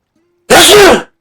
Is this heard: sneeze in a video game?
yes